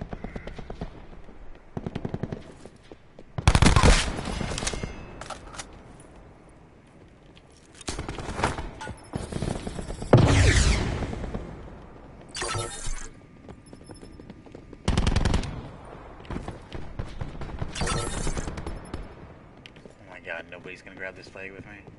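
Bursts of rapid gunfire from the Black Ops 4 video game crack out in several separate volleys, some loud and close, between stretches of quieter game noise with a voice talking.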